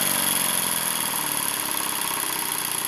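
Engine running at its critical vibration speed, shaking hard: a steady, loud mechanical drone with a dense buzzing texture and a strong high whine, continuous and unchanging throughout, with no talk.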